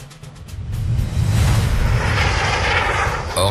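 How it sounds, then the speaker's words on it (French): A MiG jet fighter in combat roars with a broad, steady engine rush that swells and holds loud throughout, with no talking. "le MiG continue à foncer droit devant lui en alternant ses tirs entre les deux Sky Raiders"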